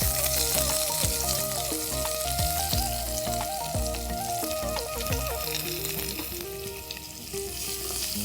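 Onions and curry leaves fry in hot oil with a steady, close sizzle and occasional stirring clatter, while background music plays throughout.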